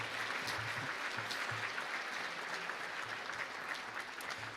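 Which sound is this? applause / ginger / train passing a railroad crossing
applause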